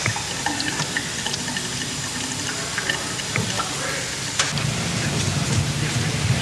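Motor oil pouring from a quart bottle into a car engine, a continuous close, splashing liquid flow with gurgling and a few small knocks.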